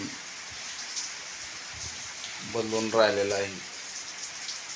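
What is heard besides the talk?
rain falling in summer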